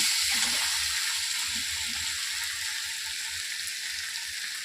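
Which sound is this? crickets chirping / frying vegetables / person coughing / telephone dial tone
frying vegetables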